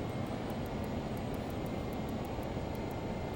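Power comes up on a LearJet in a flight simulator during a flaps-extended descent. A steady, dense jet engine roar holds level throughout, with faint regular ticking high above it and no voices.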